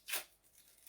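Packaging is torn open with one quick, close rip, followed by faint rustling.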